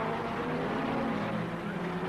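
Racing cars pull away at the start of the 1961 Le Mans 24 Hours, a 3-litre Healey and a 750 Lotus among them, their engines blending into a steady, moderately distant droning roar with no talk.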